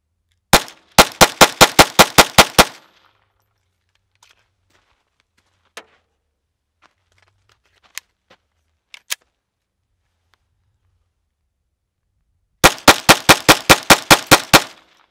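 A Glock 44 pistol fires Federal 40 grain unplated lead target ammunition in two rapid strings of about nine sharp shots each, loud and close, separated by a long quiet stretch with a few faint clicks and handling sounds.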